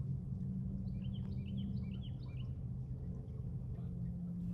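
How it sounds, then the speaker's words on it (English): Faint, distant bird calls chirp in short bursts above a steady low rumble of passing vehicles, on an island in the Florida Everglades. "Even with the sound of the vehicles, you can hear the birds in the distance."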